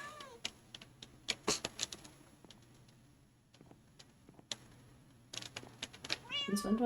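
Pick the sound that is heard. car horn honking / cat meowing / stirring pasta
cat meowing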